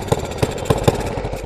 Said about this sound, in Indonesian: sepertinya bocor knalpotnya guys, trouble